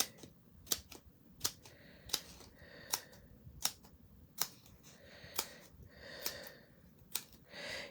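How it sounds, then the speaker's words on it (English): Scissors snip out adhesive dimensionals for a handmade Halloween card, a series of about ten sharp, close, evenly spaced cuts with quiet gaps between them. "let's cut out the dimensionals"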